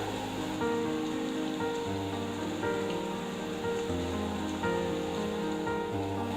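A wet grinder churns soaked rice and sago into idli batter with a steady motor hum and a soft, wet sloshing that stays constant and fairly quiet throughout.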